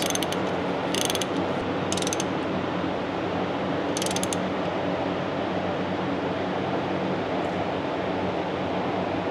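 A ratchet tightens a bolt during preventative maintenance, giving a few short bursts of rapid clicking over a steady background hum.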